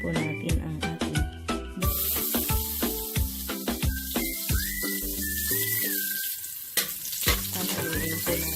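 Olive oil sizzling and crackling in a pan as aromatics are sautéed for fish tinola, steady frying noise layered with clinks of a utensil against the pan and bright tonal kitchen sounds.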